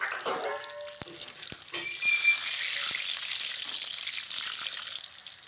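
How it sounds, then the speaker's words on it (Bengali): Pointed gourds sizzle and spit in mustard oil in a wok, a soft, fairly quiet frying hiss with a few sharp clicks and squeaks of stirring early on. No speech. "কড়াইতে একটু সর্ষের তেল দিয়ে দিচ্ছি, দিয়ে পটলগুলোকে লাল লাল করে ভেজে তুলে রাখবো।"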